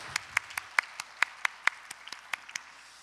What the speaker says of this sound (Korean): 하나님께 영광의 박수 올리겠습니다.